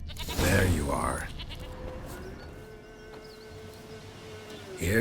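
A goat in The Witcher 3 gives a short bleat, followed by a steady drone in the game's background, and someone speaks briefly at the start.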